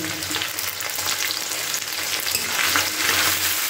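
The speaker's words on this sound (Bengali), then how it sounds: "দিয়ে একটু নাড়াচাড়া করে নিচ্ছি পেঁয়াজগুলোকে। এবার টমেটো দিয়ে দিলাম।" Onions and tomato frying in a pan for chilli cauliflower, a loud, steady sizzle with scraping stirring strokes throughout, close and alone.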